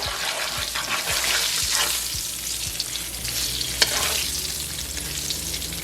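Sweet potatoes fry in olive oil tinted with a tomato cube, giving a steady, loud sizzle with crackling bursts throughout, close up, with no talk.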